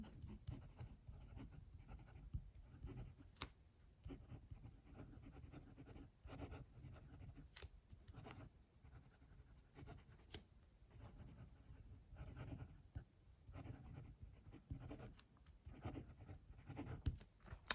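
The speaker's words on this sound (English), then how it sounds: "Okay, this pen writes consistently." Jinhao Dadao 9016 fountain pen nib scratching steadily across paper, a close, quiet continuous writing sound with small irregular strokes and occasional soft taps, no talking.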